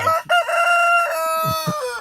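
A rooster from a bachelor flock on a farm crows once, loud and close, a long sustained call after a brief clucking start, with a couple of soft clucks near the end.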